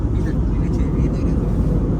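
A steady, loud cabin roar from an airliner in flight between Ayodhya and Delhi: a dense low rumble and whoosh that holds even and unbroken throughout, with faint voices beneath it.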